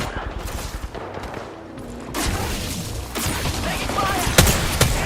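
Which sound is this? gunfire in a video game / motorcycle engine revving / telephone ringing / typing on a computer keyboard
gunfire in a video game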